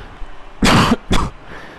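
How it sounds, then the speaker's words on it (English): Two quick, loud coughs, one right after the other, stand alone against a quiet room background with no talking. "I've got a bit of a cough."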